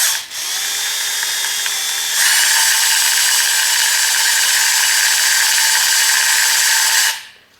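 A pulley-driven gear speed reducer with a ring gear and center spindle runs at about 4:1 reduction, giving a loud, steady mechanical whir that rises in pitch partway through before stopping abruptly.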